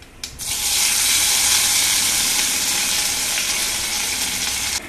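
Curry leaves hit hot coconut oil that already holds popped mustard seeds, setting off a sudden loud hissing sizzle that stays strong and even before ending abruptly, with no voices over it.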